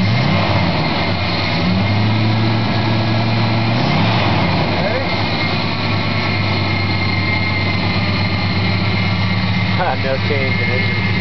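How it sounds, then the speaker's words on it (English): A 1974 Dodge Coronet engine idles steadily at an unchanging speed, a close, continuous mechanical hum and drone, with people talking over it. "No change in engine speed at all."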